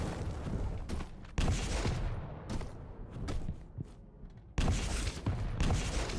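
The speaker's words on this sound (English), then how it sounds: "Oh wow, that rocket." Rocket explosions and weapon fire in a Quake Champions duel, a dense burst of booming blasts and sharp shots with a loud explosive onset and another heavy blast near the end.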